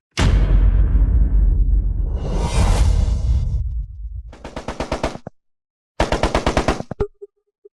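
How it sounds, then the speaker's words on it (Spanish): Missiles and artillery strike with a roaring whoosh and heavy blasts, followed by two loud bursts of rapid machine-gun fire separated by a brief silence. "Ataque con misil. Misiles de artillería."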